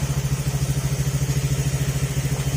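Repaired Honda motorcycle engine running steadily at idle, close and loud, with an even rapid thumping pulse throughout and no talking.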